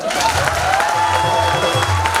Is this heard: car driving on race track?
no